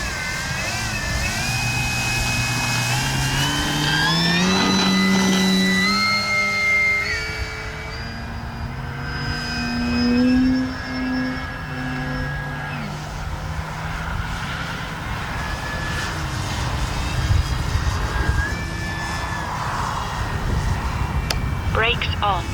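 A Flex Innovations RV-8 G2 Blue Knight RC plane flying, its electric motor whining and shifting pitch as the throttle changes, passing near and then farther off, with someone talking throughout.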